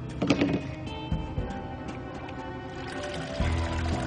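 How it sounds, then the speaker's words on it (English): Dye poured into a swimming pool filter, a brief liquid pouring and trickling sound under background music, with a fuller splash near the end. "then pours it into the filter."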